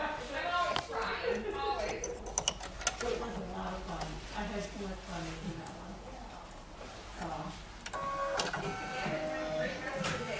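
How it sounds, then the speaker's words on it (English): An embroidery machine stitches a decorative stitch in brown thread on a Kimberbell blank, a steady mechanical chatter running close and continuous with brief pauses, while a voice talks over it. "it's going to stitch around this part right here using a decorative stitch"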